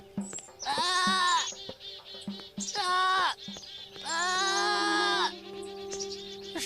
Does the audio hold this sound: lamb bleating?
yes